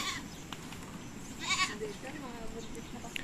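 Several goats bleat in short, wavering calls at close range on a farm where goats are kept. A louder bleat comes around the middle, and people talk throughout.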